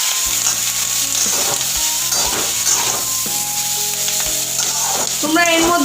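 Flattened rice with roasted peanuts frying in hot oil for chire pulao, a steady close sizzle with scraping stirs, soft knocks and a low background hum throughout.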